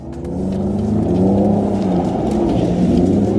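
Loud, steady engine roar of Ford Raptor pickup trucks revving hard and continuously while doing donuts on dirt at the DirtFish facility, with a low rumbling drone and faint whirring, no voices.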